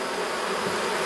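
Black honey bees buzz at their colony in a dense, steady hum of many insects, close and continuous through the brief moment, without any voices.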